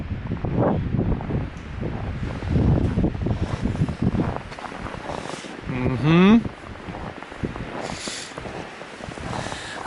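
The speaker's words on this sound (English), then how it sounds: "I think the wind found us, didn't it?" Wind gusts roaring through winter woods on the west side of a lake, a broad rushing noise that swells and eases with heavy microphone buffeting, a voice briefly audible in the middle.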